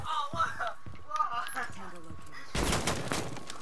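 A rapid burst of gunfire in the video game Rainbow Six Siege erupts near the end, loud and dense, after a stretch of quieter game sounds with people talking over it.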